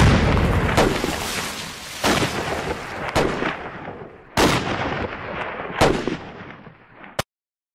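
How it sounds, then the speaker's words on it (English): A Bren gun fired from the hip in the VR war game Kokoda, several loud sharp bursts spaced about a second apart, each booming and decaying, ending abruptly in silence. "Bruce is firing his Bren gun from the hip, and that's a very difficult thing to do"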